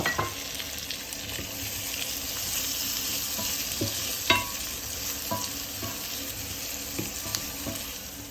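Tomatoes fry in a pan for a trofie with 'nduja dish, making a steady, dense sizzle with scattered stirring scrapes and taps, close up, with no voices.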